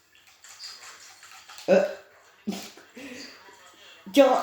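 A dog whimpering and giving short yips at bath time, several loud sharp bursts separated by quieter whines, with splashing water and a person talking nearby.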